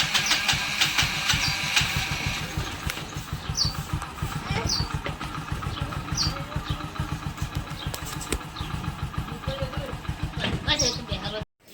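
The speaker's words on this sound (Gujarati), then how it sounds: "હવે બાઇક લઈ જઈએ છે" A motorcycle engine runs steadily throughout with a low, rapid pulsing rumble, fairly close, with faint chirps above it and sound cutting off at the end.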